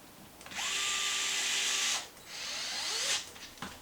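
A power tool tightening the arm retainer during a WideMaxx arm installation runs in two steady whirring bursts, each lasting over a second with a brief pause between them, close and clear, followed by a faint click.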